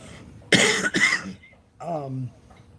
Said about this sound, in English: I'm still coughing, which I have to do now.